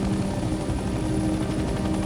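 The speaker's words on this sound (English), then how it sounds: "I am using some decreased collective right now to bring the helicopter down" A helicopter in Hell Let Loose Vietnam descends onto a helipad, its rotor thumping in a steady, fast beat beneath a dense engine drone, loud and close throughout with no speech.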